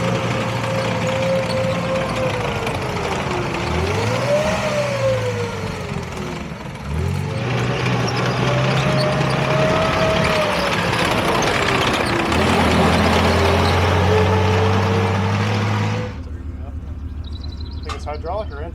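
A Centurion Mk V tank's heavy engine runs loudly and continuously, its pitch rising and falling as it revs, then settles to a lower idle near the end.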